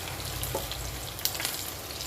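Coconut pieces frying in hot oil give off a steady, close sizzle with small crackles and pops scattered across the texture, and no one speaks.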